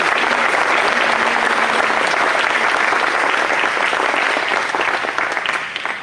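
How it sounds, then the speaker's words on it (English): A large audience at a Wayne County 4-H Style Revue and Ohio State Fair awards program gives a loud, sustained round of applause that holds steady throughout and tapers off slightly at the end. "if we could just have a big round of applause for our Food and Fashion Board and Building 10 committee"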